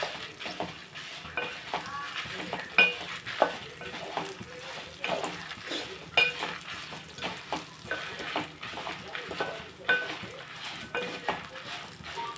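Curry leaves frying in a pan on a low flame for curry leaf powder, with a steady close sizzle broken by repeated scraping stirs.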